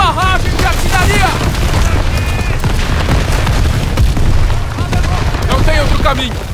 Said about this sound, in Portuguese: Barragem de artilharia!